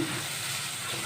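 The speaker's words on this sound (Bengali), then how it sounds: "এখানে আমি হাফ কাপ পরিমাণ পেঁয়াজ কুচিগুলো দিয়ে দিচ্ছি।" Half a cup of chopped onions fries in hot oil for a Sonali chicken bhuna, giving a brief, steady sizzle at moderate level with no talking.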